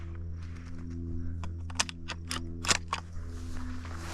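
Shotgun blasts from pigeon hunting inside grain bins, a handful of sharp, fairly distant reports spaced irregularly over a steady low engine-like hum.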